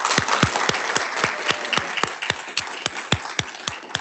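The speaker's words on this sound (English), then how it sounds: "Let's give this panel a round of applause." A small room audience claps for a panel on gravitational wave research, producing distinct, fairly steady individual claps in a regular rhythm, moderately close and without talk over them.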